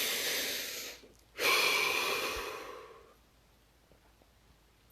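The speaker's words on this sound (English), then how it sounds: "Deep breath." A deep breath, close and clear: a long inhale, a brief pause, then a long, airy exhale that fades into near silence.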